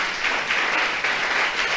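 A short burst of congregational applause in a church, offered to God during a sermon, dense clapping with slight swells.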